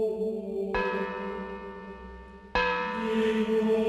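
Large cathedral church bells in a bell tower ring out close and loud, two heavy strikes about two seconds apart, each leaving a long, rich humming resonance that overlaps the next, with no voices.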